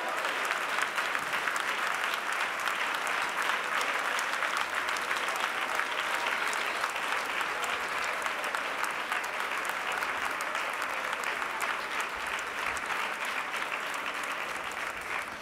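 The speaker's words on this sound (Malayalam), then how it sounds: "കൈയടിച്ച് ദൈവത്തിന് സ്തോത്രം ചെയ്യാം." A church congregation claps in praise of God, steady, loud and dense applause that continues without a break for about fifteen seconds, with no voice standing out.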